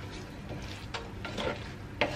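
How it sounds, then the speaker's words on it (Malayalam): Yogurt being stirred into Kerala avial, a mixed vegetable dish, with a spoon scraping and clicking against the pot in a soft, steady rhythm over a faint background hiss, with a few sharper knocks. "ഇനി ഇത് നല്ലോണം നമുക്ക് മിക്സ് ചെയ്തെടുക്കാം."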